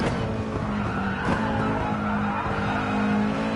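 Tyres squealing and skidding under hard braking in GT Sport at Monza, with a Nissan engine droning loudly and continuously underneath.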